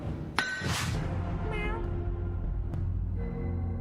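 A cat meows a few times, a sharp high call followed by shorter mews, fairly close over a steady low background hum with a couple of brief clicks.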